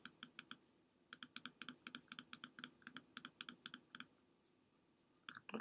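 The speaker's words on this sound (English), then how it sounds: "each time I move this, I'm clicking my mouse." Rapid, crisp computer mouse clicks in a run of sharp taps, then a brief pause and a few more clicks near the end, close and fairly quiet with no talking.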